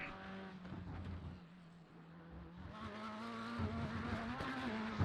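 Corvette C8.R GTE race car in the iRacing simulator, its engine droning steadily and rising in pitch as it accelerates, with faint tire squeal and no talk.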